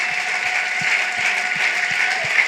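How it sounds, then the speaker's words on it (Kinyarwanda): Rhythmic, evenly spaced clapping from a church congregation during worship, about seven beats in a steady pulse under a sustained wash of music and voices. "Clap for the Lord with a mighty acclamation."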